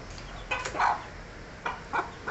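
Chickens and chicks being fed spinach cluck close by, a few short separate clucks in quick succession over low background noise.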